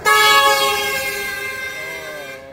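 A long, loud, sustained blast from a bus horn on a road journey to Tawang, a harmonic-rich tone that sounds close and slowly fades over about two seconds.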